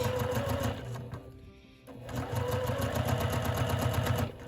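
Sewing machine stitching quilt pieces along a quarter-inch foot, a fast steady mechanical whir with rapid needle clatter that pauses briefly for about a second before resuming at full speed.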